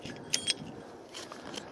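Light metallic jangling and rattling of a tow ball loose in a trailer hitch, a few quick clinks at moderate distance over a quiet background.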